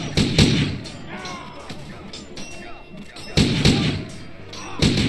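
Musket shots in the pirate video game Corsairs Legacy boom out as sharp, heavy blasts, one at the start and another about three seconds later, with a voice talking faintly between them.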